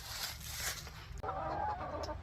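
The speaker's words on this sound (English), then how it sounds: "here we are inside the chicken coop now" Chickens cluck inside a chicken coop on a cold winter day, with soft overlapping clucks and one clearer, higher call partway through, all fairly close and heard without any talking.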